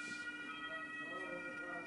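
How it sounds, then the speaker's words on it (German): A police car siren wails faintly in the far distance, a steady tonal drone under low room noise. "jetzt tut in der Ferne gerade ein Polizeiauto seinen Dienst"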